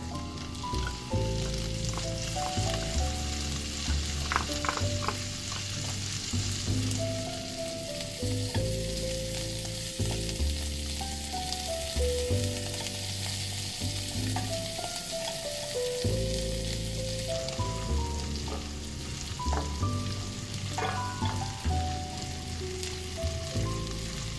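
Garlic and herbs sizzle in a single pan for an omelette, a constant bright frying hiss broken by repeated scraping strokes of a utensil stirring them, close and alone without voices.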